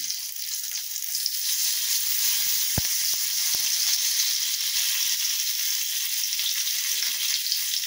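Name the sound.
curry leaves sizzling as they are added to hot oil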